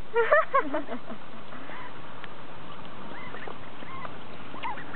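A few short nasal quacks from ducks at Chatsworth House burst out close by at the start, then fainter calls sound sporadically over quiet background noise.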